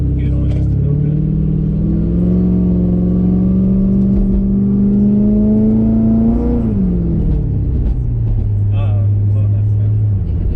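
A cammed C6 Corvette's engine drones loudly and steadily while driving, then swells in a rev before settling back to a lower rumble, with people talking over it inside the car.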